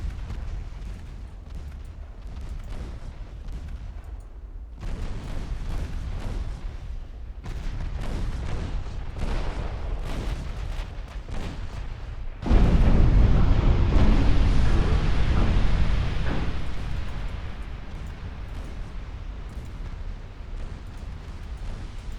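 Heavy 16-inch naval guns boom in a series of deep, rumbling salvos during a warship battle in Ultimate Admiral Dreadnoughts, with a loud sustained roar of blasts building midway before easing into a lingering rumble.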